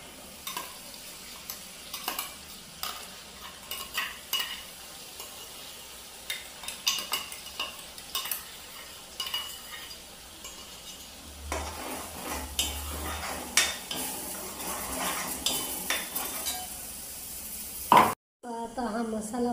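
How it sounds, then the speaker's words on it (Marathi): Masala paste fries in a pan for a prawn recipe, a continuous sizzle broken by repeated stirring scrapes and light clinks of a utensil against the metal. "आता हा मसाला फ्राय होतोय"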